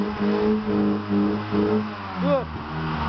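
A Volkswagen Golf with a valved exhaust revs repeatedly in short bursts on a street in Istanbul. Each blip climbs in pitch and then falls back, with a deep, throaty exhaust note that sounds fairly close.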